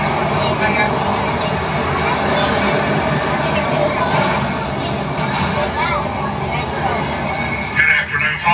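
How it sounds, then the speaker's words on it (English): The Six Flags and Texas Railroad train rolls along with a steady rumble and rattle of cars heard from on board, loud and continuous, with passengers talking over it. "Please remain seated while the train's in motion."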